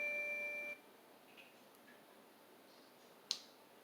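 A Letwesaf radar perimeter alarm motion detector gives a sustained electronic tone that cuts off, followed by a quiet room and a single sharp click near the end; nearby, with no talk.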